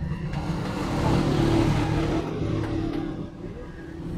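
The engine of a 2023 Sazgar six-seater auto rickshaw runs nearby with a steady, rough idle that rises briefly in a rev and then settles back down.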